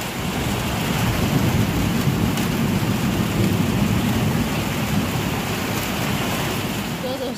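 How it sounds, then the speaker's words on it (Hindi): A heavy evening downpour roars loudly and steadily on surfaces outdoors, with deep thunder rumbling underneath throughout. "कितना तेज तेज बारिश हो रहा है।"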